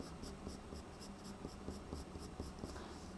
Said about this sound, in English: pressing on hard, holding the pencil at the end at the bottom so that I can control it